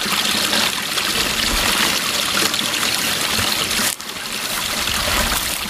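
Steady broadband rush of running water from a stream, a continuous trickling flow close by, with a brief dip near the end.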